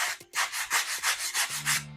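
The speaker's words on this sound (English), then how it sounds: "I'm gonna sand it first." Wood being sanded by hand for a custom display stand, a run of about eight close, rhythmic back-and-forth rubbing strokes, loud and dry, with no talk.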